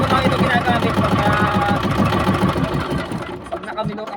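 A small boat's engine runs steadily nearby with a rapid, chugging mechanical pulse that thins out toward the end, while a person talks over it.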